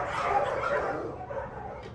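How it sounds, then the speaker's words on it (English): Several dogs barking, a busy burst of woofs and yips that runs continuously at moderate loudness, with no voices over it. "come down through the trapdoor to a chorus of woof"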